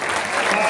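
Brief burst of audience clapping at a Hindi poetry recital, a short dense patter of hands in a hall lasting under a second.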